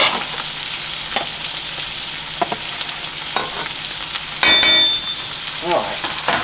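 Onions and squash sizzle steadily as they fry in a pan for a chorizo quiche, with a few spatula stirs and clanks against the metal, close and continuous.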